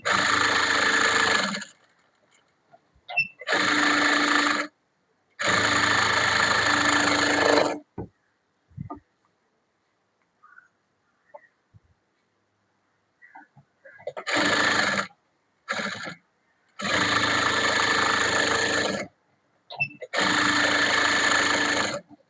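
A sewing machine stitches a blouse in loud, close bursts of rapid mechanical whirring, several runs of a few seconds each broken by quiet pauses.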